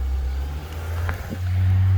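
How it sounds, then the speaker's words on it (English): A car's engine revs as the accelerator is pressed while parked in park, its low steady drone swelling briefly and settling back to a higher idle, close and continuous with no talking. "when I push down on the accelerator"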